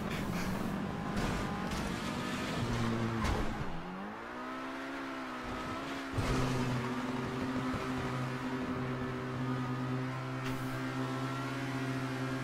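Car driving in GTA Online, a steady engine drone whose pitch dips and then climbs back as the driver eases off and accelerates, with a few sharp knocks and impacts, continuous and up close.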